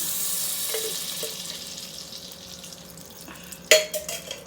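Butter or oil heats in a pan for pav bhaji, giving a soft, steady high sizzling hiss close by, ending with a sharp metallic clank of cookware.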